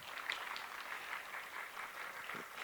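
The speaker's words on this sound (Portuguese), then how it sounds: "Outra salva de palmas para eles" A keynote audience at an agroenergy conference gives a steady round of applause, many hands clapping together in a dense, even wash that holds at the same level throughout, with no voices rising above it.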